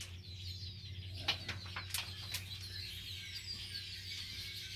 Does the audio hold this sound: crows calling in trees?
yes